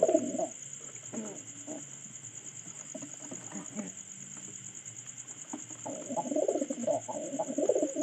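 Pigeons kept in a loft give soft, low cooing in bursts at the start and again toward the end, over a steady high insect-like drone, with no talk.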